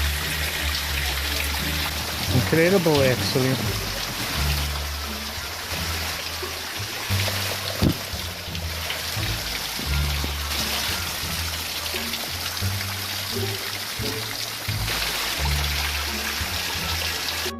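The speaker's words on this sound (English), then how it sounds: "here's the little waterfall" Water from a small waterfall trickles and splashes steadily nearby at an underwater shelter, a continuous gurgling flow, with a brief spoken remark near the start.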